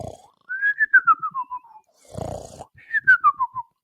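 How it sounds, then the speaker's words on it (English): Snoring sound effects for ASMR play as two quiet whistling snores with a descending nasal tone, separated by a short breathy inhale rumble, close and isolated. "We hope you enjoyed those ASMR snoring sound effects."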